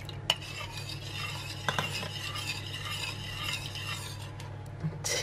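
A spoon stirs almond milk into melted butter in a pan for a gluten-free chocolate pudding, with quiet, steady swirling and a few sharp clinks of metal against the pan.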